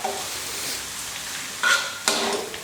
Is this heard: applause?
no